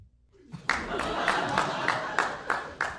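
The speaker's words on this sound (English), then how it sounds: "One child is clapping." A single child clapping in a comedy show audience, a steady run of sharp, evenly spaced claps sounding close and fairly loud against quiet room tone.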